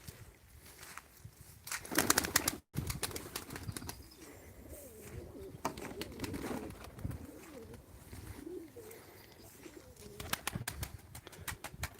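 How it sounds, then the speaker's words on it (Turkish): Birds outside a rain-soaked greenhouse, with pigeon or dove coos and wing flaps scattered over twelve seconds of moderate outdoor ambience, a louder burst of flapping near the two-second mark. "Son böyle kuşları da göstereyim."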